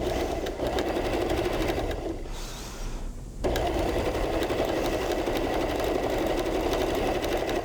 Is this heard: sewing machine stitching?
yes